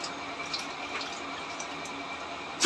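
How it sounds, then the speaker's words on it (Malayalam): Sambar vegetables being rinsed under running water in a kitchen, a soft steady trickle and splash at moderate distance, ending with a brief louder splash. "അപ്പോഴത്തേക്കിന് സാമ്പാർ കഷ്ണങ്ങളൊന്ന് കഴുകി അതും വെള്ളത്തിൽ ഇടട്ടെ."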